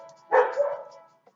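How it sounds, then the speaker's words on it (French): Dogs bark in a short burst of a few yelping barks behind an indoor speaker, moderately close, then the sound drops back to quiet. "Je suis désolé pour les chiens qui sont derrière moi"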